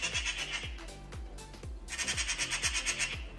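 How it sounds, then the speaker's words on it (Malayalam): Repeated harsh squawks from a bird near a flat garden in Sweden, a rapid series of shrill calls with brief gaps and steady throbbing pulses beneath. "ആ കിളിയാണ് കിടന്ന് ഈ ഒച്ച ഉണ്ടാക്കുന്നത്"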